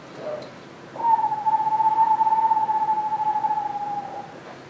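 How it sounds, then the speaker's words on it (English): Screech owl giving its trill call: one long, steady, even trill lasting about three seconds, clear and fairly close, with no talking. "So it's a trill sound."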